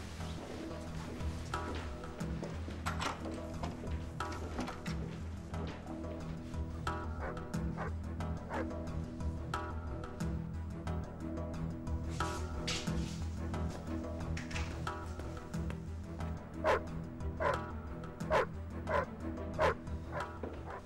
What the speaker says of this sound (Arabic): شو بقول الكلب ليش عم يعوي اليوم؟